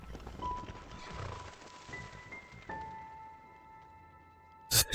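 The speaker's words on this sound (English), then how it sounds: "Horse." A horse in the game Enderal: Forgotten Stories snorts and stirs beneath soft sustained musical tones, ending with a couple of sharp, loud thumps.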